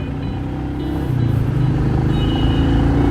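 Engine of a Royal Enfield Meteor 350 motorcycle while riding, a steady close rumble that grows slightly louder and rises in pitch as the bike pulls, with no voices.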